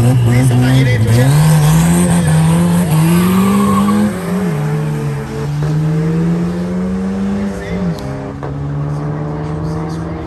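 A turbocharged VW Beetle accelerates on a track, its engine roaring loud and close as the pitch climbs through the gears with brief drops at shifts. People talk over it.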